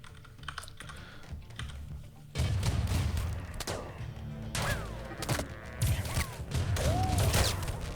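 Mortars fire in the RimWorld video game, with repeated booming thumps and whistling shells mixed with the clatter of a computer keyboard being typed on.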